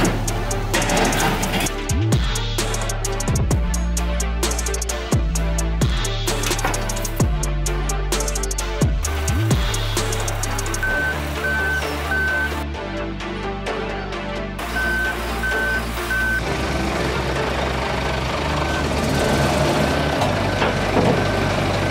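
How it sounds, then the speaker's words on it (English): A lorry reversing into a yard with repeated electronic reversing beeps sounding in a steady pattern over a rumbling diesel engine, which continues running as the beeps change and carry on through the later part. "I'm gonna go and grab the lorry."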